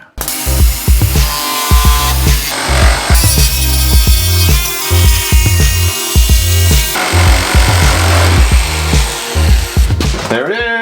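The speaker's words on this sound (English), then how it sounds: "Now our next step is to cut it out using a jigsaw." Jigsaw cutting through sheet metal, loud and close, with a steady buzzing blade and rhythmic rattling strokes running continuously and a rising whine near the end.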